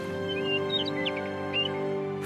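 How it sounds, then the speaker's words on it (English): Birdsong in springtime Yellowstone, with several bright chirps and short tweets scattered over a steady hum of background ambience, moderately close and with no talking. "Birds have flown in from as far away as the Arctic and subtropics."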